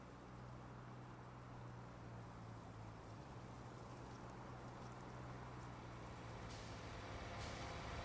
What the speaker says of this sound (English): just going round and round in circles in a truck